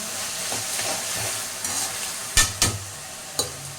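Onions and tomatoes sautéing in a pan give a steady, close sizzle with a few sharp scrapes or clinks of stirring near the end.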